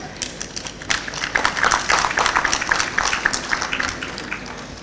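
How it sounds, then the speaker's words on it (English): Sparse, uneven applause from an audience at a University of Ghana College of Health Sciences congregation ceremony, thin scattered claps swelling briefly in the middle before fading, moderately distant. "The applause was weak."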